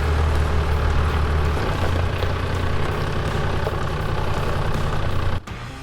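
Heavy off-road trucks in a convoy, including a Toyota Land Cruiser 80 Series, descending a steep cliffside hill, a loud steady low engine drone that cuts off abruptly near the end.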